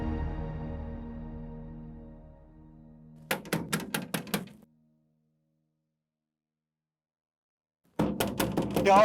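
Loud, rapid knocking on a door comes in two hard bursts of about five raps each, separated by several seconds of silence, after a fading low musical tone.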